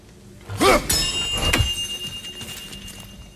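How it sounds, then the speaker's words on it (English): Chimes ring out in God of War Ragnarok, a bright metallic strike followed by a long sustained ringing tone that lingers and slowly fades, with a second thud-like hit partway through. "Good to see the chimes working as intended."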